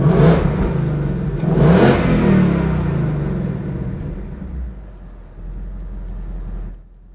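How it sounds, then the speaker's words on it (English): A 700 HP 2020 Ford Mustang GT V8 starts in quiet exhaust mode: a loud starter whir and flare, then a steady, fairly subdued rumbling idle heard from close behind the car, which cuts off at the end. "So let's gonna start this vehicle in quiet mode, and we'll put you to the back and you could hear what it sounds like."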